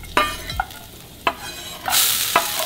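Onions and garlic dropped into hot olive oil in a pan, several scraping stirs with sharp clatters of a utensil, then a rising hiss of frying, close and alone.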